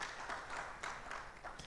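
Conference audience applauding together, a steady dense wash of many hands clapping at moderate distance with a few sharper claps standing out.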